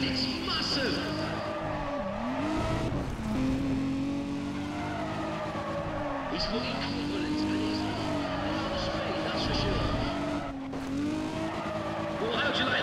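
Race car engine in Need for Speed ProStreet revving high and shifting up repeatedly, the pitch climbing then dropping at each gear change, loud and continuous with a slight tire squeal.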